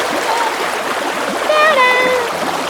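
Water flows in a stream in Griffeen Park, Dublin, as a steady, close rushing wash that runs the whole time, with a few brief tonal chirps rising over it midway.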